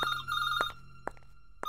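A telephone bell rings in repeated short electronic bursts, loud and close, with brief gaps between rings and no talk over it.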